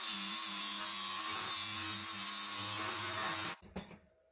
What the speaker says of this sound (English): we're going to go through here and just beat down this left hand rail with the sander polisher a lot